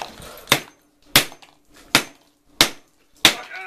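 A hammer smashing an iPhone 5S, five sharp, loud blows spaced roughly evenly about half a second apart, each a crisp crack with a brief rattle, close up and without speech.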